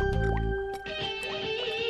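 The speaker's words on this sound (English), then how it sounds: "These pipes are leaking the ugliest water I ever seen." Water drips from leaking pipes in the animated series Waynehead, a handful of quick plinking drops landing over a steady tonal hum.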